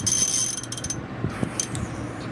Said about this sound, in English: My socket wrench is a little overkill, so I'm just being careful